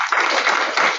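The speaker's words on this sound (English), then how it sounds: "We're all clapping here." A short burst of dense clapping from a group of people, steady and close throughout, with no talking over it.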